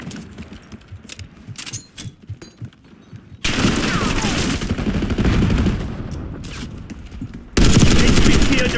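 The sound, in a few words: gunfire in video game Call of Duty: Black Ops 6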